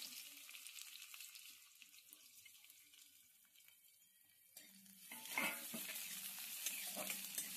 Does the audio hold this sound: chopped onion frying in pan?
yes